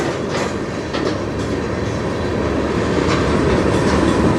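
A CN freight train rolls past on the Strathroy Subdivision and picks up speed, giving a loud, continuous rumble with a faint clickety-clack of wheels on rail joints, close by and with no voices.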